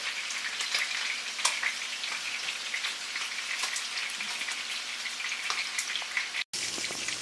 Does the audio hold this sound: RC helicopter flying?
no